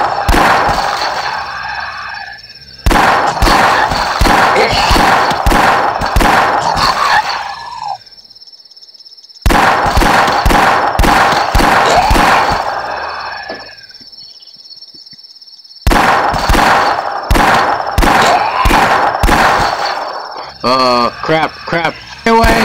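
Revolver and pistol fire in a video game: loud, close bursts of sharp shots in rapid strings, separated by short silent gaps, over a steady high electronic tone.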